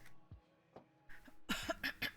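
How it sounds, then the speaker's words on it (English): A groggy person who has just woken up coughs a few times in quick, close, harsh bursts, after some quieter breathy sounds and a faint earlier cough. "Excuse my coughing."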